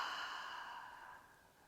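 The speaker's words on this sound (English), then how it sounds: "Exhale and lengthen." A slow, steady exhalation during a hypopressive breathing exercise for the pelvic floor and core, soft and airy, fading gradually over its length with no talking.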